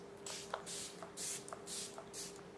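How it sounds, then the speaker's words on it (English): Four quick hissing bursts of GOSH Fix Plus makeup setting spray, close to the microphone, evenly spaced with short pauses between them. "I'm going to spray some Fix Plus"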